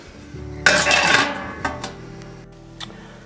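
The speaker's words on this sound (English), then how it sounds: "I'll put a lid on this and we'll let them cook." A metal lid is set onto a double boiler pot, making a close clattering rattle of metal on metal that settles quickly, followed by a couple of lighter clinks and no talking.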